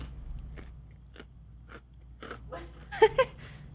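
A person chews food close to the microphone, making wet crunching bites in an uneven rhythm, with two louder crunches near the end. The room is otherwise quiet.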